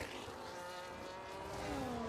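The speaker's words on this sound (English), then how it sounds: "A flurry of cars continuing on their laps" Race cars lapping a circuit at the Brazil Grand Prix in a racing video game, a steady layered engine whine with shifting pitch as several cars pass, continuous and moderately loud with no talk.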